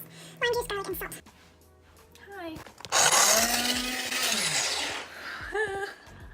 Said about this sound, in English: I just turned on the coffee grinder.